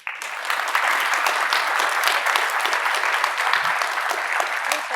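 An audience at an artist talk with painter Jenny Saville gives steady, full applause welcoming the speakers, a dense sustained clapping that holds evenly for several seconds.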